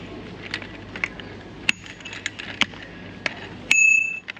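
A bicycle bell is rung inside a Kmart store, giving sharp metallic dings, a few quick clicks and then one longer ring near the end, with faint store ambience behind.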